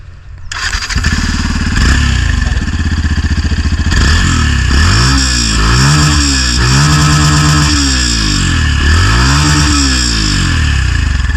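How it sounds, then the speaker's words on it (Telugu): A Yamaha FZ-FI 149cc motorcycle engine cranks and catches, then revs repeatedly in rising and falling surges before settling into a loud, close, continuous rumble. "మొత్తానికి అయితే బైక్ సౌండ్ అయితే ఇది"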